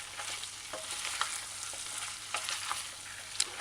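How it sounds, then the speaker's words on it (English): Chicken and broccoli stir-fry sizzles steadily in a pan over a flame, with soft scraping clicks of stirring and folding breaking through the constant frying hiss. "If you're using a saucepan, hold it up to the edge on the flame and fold and stir, fold and lift."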